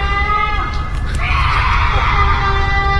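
A scream rings out from outside a house in a Hindi cartoon, a loud shrill cry rising over a busy, noisy background about a second in.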